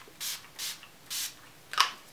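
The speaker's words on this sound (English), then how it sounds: "just gonna hit it with some setting spray" Makeup setting spray misted from a pump bottle, three short even hisses in a steady rhythm followed by a quicker, sharper spritz, close and fairly loud in a quiet room.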